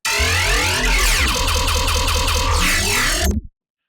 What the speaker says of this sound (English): this is the preset Tub of Gravy, and it gives like this nice little distortion pattern, more like a siny kind of pattern